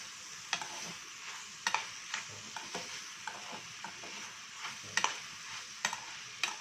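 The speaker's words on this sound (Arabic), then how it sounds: "عايزينها تتشوح بس تشويحه محترمه" Food is stir-fried in a pan with black pepper, a quiet continuous sizzle broken by sharp clicks of a utensil tossing and scraping against the pan at an uneven rhythm.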